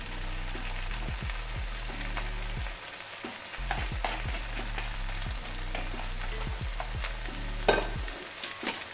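Beef strips sizzling and stir-fried briskly in a hot wok for beef with onions, a steady loud frying hiss with repeated scraping tosses of the spatula throughout, no voices.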